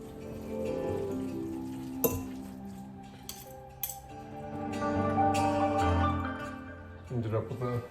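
Braised adobo short rib being stirred in a pot, with scattered clinks and scrapes of a utensil against cookware under ongoing talking.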